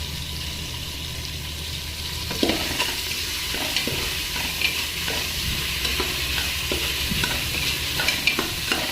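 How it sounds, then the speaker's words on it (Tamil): Chopped onions sizzling and frying in hot oil for chicken biryani, with a spoon stirring and scraping through the pan in repeated strokes over a steady close-up hiss. "ஆனியன் பொன்னிறமாக வர வரைக்கும் வதக்கிக்கிட்டே இருக்கேன்"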